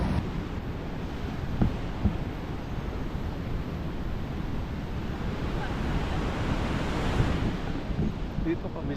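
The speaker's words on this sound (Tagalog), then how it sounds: "ang lalaki ng alon sa Bondi" Big ocean waves roll and crash at Bondi Beach in Sydney, a steady loud surf roar with buffeting wind on the microphone throughout.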